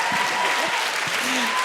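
Audience applause fills a live comedy show at Club Soda, a dense steady clatter of clapping throughout, with a few low voices calling out underneath.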